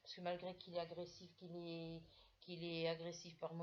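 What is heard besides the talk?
No everyday noises stand out.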